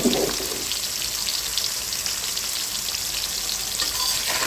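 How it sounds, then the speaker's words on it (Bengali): Potatoes frying in plenty of oil in a kadai, seasoned with a little salt and turmeric, give a steady, close, loud sizzle that fills the whole stretch without letting up. "আলুটা কিন্তু সামান্য লবণ আর একটু হলুদ দিয়ে ভেজে নিচ্ছি"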